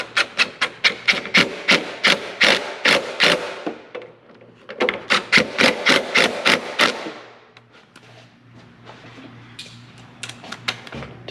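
Wrench work tightening a bolt on a John Deere 850J dozer: two long bursts of quick, rhythmic ratcheting clicks, close and fairly loud, separated by a short pause, then a few scattered fainter clicks.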